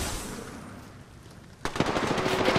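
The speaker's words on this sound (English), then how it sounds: "I'm taking shots." Rapid automatic gunfire in Apex Legends Season 8 breaks out after a quieter stretch, with dense bursts of shots continuing steadily to the end of the moment.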